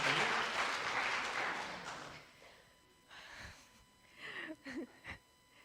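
Applause from an audience at a church Bible school session fills the first two seconds, loud and dense, then quickly dies away into a quieter room with a few scattered thumps and faint voices.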